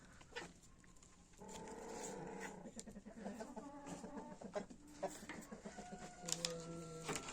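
Chickens cluck and murmur inside a coop, with bird calls rising and falling steadily near at hand, a few sharper squawks toward the end, and no talk.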